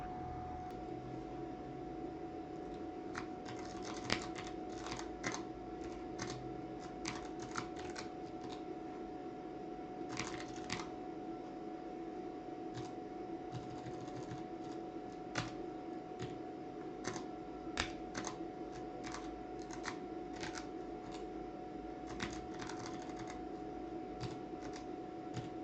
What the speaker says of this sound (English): So let me type that here in this formula input window.